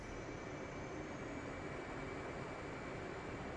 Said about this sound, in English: We are taxiing.